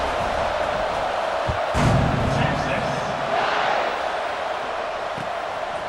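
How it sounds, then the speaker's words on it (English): A stadium crowd at an American football game buzzes steadily right after a touchdown, a dense and continuous roar with a brief swell near the two-second mark. "this crowd is buzzing after that last score."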